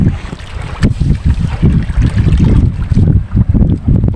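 Strong south wind blows at sea near a small fishing boat, buffeting the microphone with loud, continuous low rumbling gusts.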